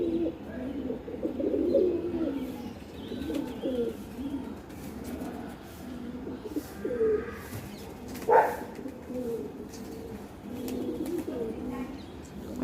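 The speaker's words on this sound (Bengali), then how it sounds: "আজকে আমি এই পায়রার ভিডিওটা নিয়ে আসি আপনাদেরকে দেখাই।" Domestic pigeons coo in low, repeated throaty phrases, close by and fairly soft, with a few faint chirps and a brief sharper sound partway through.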